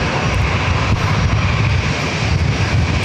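A United Boeing 737 MAX 8 arriving at San Diego airport from Newark makes a close, loud and steady engine roar with wind buffeting the microphone, alone without voices.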